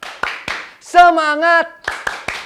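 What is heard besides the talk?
children clapping along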